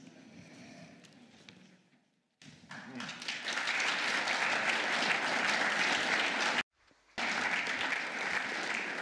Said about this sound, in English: Wait before applauding.